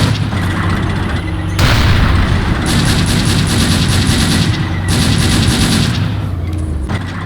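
DShK heavy machine gun in the video game Faces of War, firing loud sustained bursts, two long strings of rapid shots separated by brief pauses, with booming low rumble underneath.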